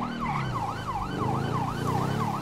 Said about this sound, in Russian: Включаем сирены